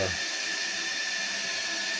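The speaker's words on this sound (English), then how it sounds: "there's a water feeder. Now the burner's still not lit. Okay, we're at the bottom. Let's see how long it feeds for." A steam boiler's water feeder filling, a steady close hiss of rushing water with the burner not yet lit.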